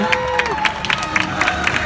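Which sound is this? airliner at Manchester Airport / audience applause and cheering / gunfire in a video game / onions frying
audience applause and cheering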